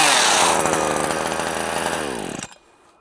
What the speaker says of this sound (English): Hedge trimmer works pretty well, actually.